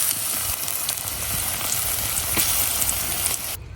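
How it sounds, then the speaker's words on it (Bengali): Olives being mashed with a spoon in a hot pan of fried garlic, giving a continuous loud sizzle with soft scraping and squishing strokes, cutting off abruptly near the end. "রসুনটা ভাজা হয়ে গেছে, এখন আমি জলপাইগুলা চটকায় চটকায় দিয়ে দেব।"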